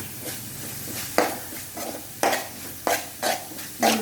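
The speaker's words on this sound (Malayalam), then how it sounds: "എന്നിട്ട് ഇത് നന്നായിട്ട് വഴട്ടാം." Anchovy cutlet mix with turmeric powder being sautéed in a pan: a soft sizzle underneath repeated scraping stirs that come in roughly every half second to second, close and moderately loud, with no voices.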